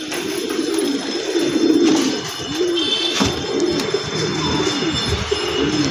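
Pigeons cooing outdoors, repeated soft rounded coos close by in a steady series, with faint background noise.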